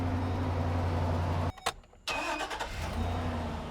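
A Chevy idles loudly, cuts out briefly, then cranks and catches again, settling back into a steady close engine hum after the restart.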